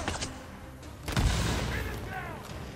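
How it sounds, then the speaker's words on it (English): Grenade blasts in the zombie survival video game Days Gone: a burst of sharp cracks early on, then a heavy, booming explosion that swells and rumbles for over a second, with voices talking faintly underneath. "Like these grenades."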